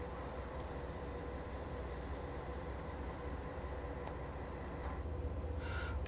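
A BR 363 shunting locomotive in the train simulator Train Sim World 2, on the Dresden-Riesa line, rumbles with a steady low diesel drone and faint rail noise throughout, with a brief squeal near the end.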